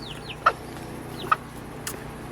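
Young chicken chicks cheeping, a few brief high peeps spaced apart over quiet background, near and soft.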